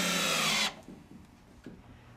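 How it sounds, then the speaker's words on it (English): A power drill drives a 1-inch deck screw into plywood while a shipping crate is built. It makes one loud, steady whir for well under a second, then stops abruptly, leaving faint handling noises. "screw plywood piece C on top using 1-inch deck screws"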